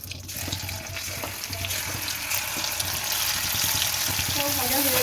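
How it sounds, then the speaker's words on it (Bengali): Prawns frying in hot oil in a pan, giving a steady crackling sizzle that builds slightly over five seconds, with faint clatter and no talk. "এরপর তেলেই আমি চিংড়ি মাছটাও ভেজে নেবো"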